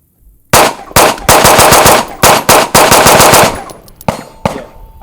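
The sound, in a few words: pistol shots fired at a shooting range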